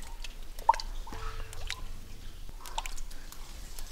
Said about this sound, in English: The drip drops from the roof fall on the ancient icicles